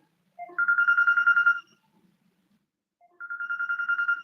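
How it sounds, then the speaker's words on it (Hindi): A phone ringtone plays a quick warbling trill, pauses for about a second and a half, then rings again, clear and close. "मम्मी का फोन आ रहा है।"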